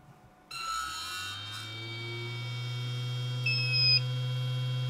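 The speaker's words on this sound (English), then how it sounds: "there is some PWM noise coming from the blower at certain airflow rates, and particularly when it spins up, you hear it quite loudly" The blower of a BST-863 1200W hot air rework station spins up, a steady motor hum rising with a thin, high PWM whine and squeal above it, close to the mic and without speech.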